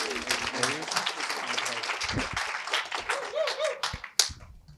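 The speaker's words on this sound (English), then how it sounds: "Round of applause." An audience claps steadily in a dense burst of applause, with voices cheering over it, then the clapping fades out.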